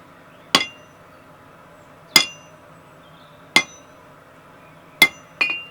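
Hot steel is hammered into a gradual taper on a round die, with sharp ringing metallic strikes spaced about a second or more apart and a quick double hit at the end.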